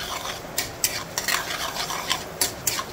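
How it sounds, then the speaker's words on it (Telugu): Mustard seeds and urad dal fry in a tempering for Andhra wood apple chutney, a soft sizzle under repeated scraping and clinking of a spoon stirring the pan, several sharp taps spaced unevenly. "ఒక 1/2 స్పూన్ ఆవాలు, ఒక 1/2 స్పూన్ మినపప్పు అండి వేసుకుని పోపు చక్కగా ఎర్రగా వేయించుకోవాలి"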